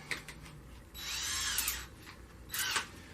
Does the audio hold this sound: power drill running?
yes